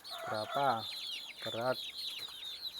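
Free-range kampung chickens cluck and chirp steadily nearby on a small farm raising native chickens, while someone speaks briefly over the flock.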